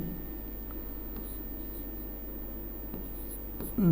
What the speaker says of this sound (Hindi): सूत्र लिखेंगे